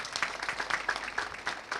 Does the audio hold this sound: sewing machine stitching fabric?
no